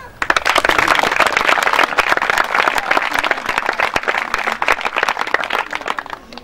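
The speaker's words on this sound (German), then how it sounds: "ich bitte nochmal einen riesen Applaus für die Kinder." Parents and guests applaud the children at a closing ceremony of a Real Madrid football training camp in Rotenturm, loud, close clapping with distinct sharp individual claps over a steady crowd patter, tapering off at the end.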